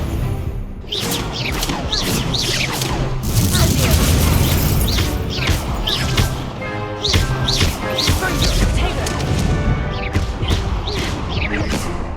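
Spell effects and magical combat in Hogwarts Legacy, including the Incendio fire spell: repeated bursts, crashes and whooshes layered over game music, loud and busy throughout.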